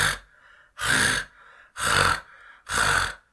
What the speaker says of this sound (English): So literally practice hacking.